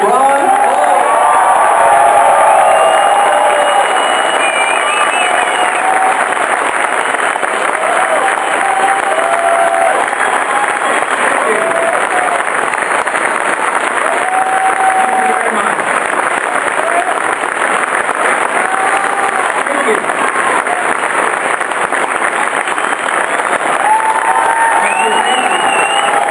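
Conference audience at the Campaign for Liberty St. Louis Regional Conference applauding and cheering as Congressman Ron Paul is welcomed, a sustained loud wash of clapping with whoops and shouts throughout.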